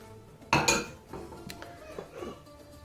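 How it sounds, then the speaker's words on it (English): Plain flour and other ingredients tip into a mixing bowl with a sharp clatter of bowl and utensils, followed by softer scattered clinks and rustles. "So now I'm going to add all this into a bowl."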